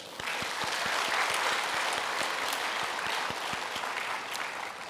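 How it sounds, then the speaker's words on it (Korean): An audience applauds at a church evangelism presentation, with dense, steady clapping that holds close and even for about five seconds and no voices over it. "박수 한번 주세요"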